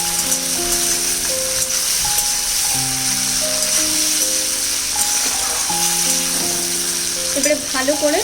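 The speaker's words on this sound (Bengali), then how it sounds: "টমেটোটাকে সাঁতলে নেব" Tomatoes sautéing in a pan with mustard paste for a sour puti fish dish, a loud steady sizzle with intermittent stirring rattles and scrapes, close by and alone.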